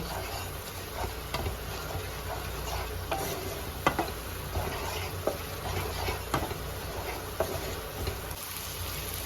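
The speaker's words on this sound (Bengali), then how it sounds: "এবার মশলাগুলোকে ভালো করে মিক্স করে নেব" Ground spices with coriander and turmeric fry with a constant close sizzle in a pan, punctuated by repeated scraping and clinking strokes of a spatula as they are stirred, no voices.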